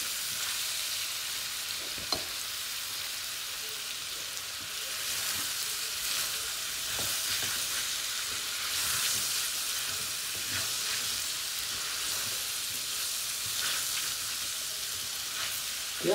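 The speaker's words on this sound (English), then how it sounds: "You have to continue to stir this so it doesn't get burnt at the bottom." Chicken fajita filling fries in a pan while being stirred, a steady close sizzle with soft scraping and stirring strokes throughout and an occasional clack of the utensil, with no voices.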